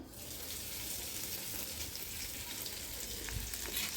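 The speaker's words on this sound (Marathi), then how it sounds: "कढई तेल घातले आणि मिरची भरून राहिलेला गरम मसाला घालूया तो चांगला भाजून घ्यायचा" Leftover masala stuffing for capsicum sizzles steadily in hot oil in a wok, a soft, continuous crackle with faint stirring scrapes.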